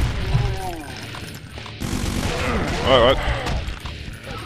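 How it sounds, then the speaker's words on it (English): Gunfire from an enemy shooter in the video game Doom TNT: Evilution with a brutal mod, heard as bursts of rapid shots and booms under a player's short exclamation and game noise. "He was shooting from up there."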